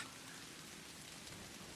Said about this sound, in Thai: เธอวิ่งตากฝนไปด้วยนะคะ ทั้งที่ฝนตกแรงมากเลยค่ะ